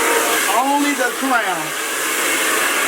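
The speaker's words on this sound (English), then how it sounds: "we're going to go in with the blow dryer and blow dry the top" A blow dryer runs steadily with a constant airy whoosh throughout, drying the crown of the head, and a voice is briefly audible over it.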